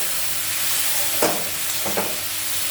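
Rohu fish curry spiced with chilli powder and salt sizzles steadily in a frying pan, with a couple of soft stirring scrapes cutting through the constant hiss.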